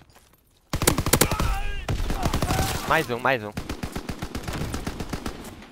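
Rapid bursts of video game gunfire crackle through a team match, dense automatic volleys dominating most of the stretch while players talk excitedly over the shots.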